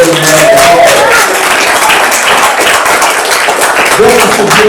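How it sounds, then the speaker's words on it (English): Loud, dense applause from a crowd at a One Fair Wage Michigan celebration, welcoming Justice Bernstein; steady clapping fills the whole stretch with voices mixed in. "Give my justice a loving round of applause."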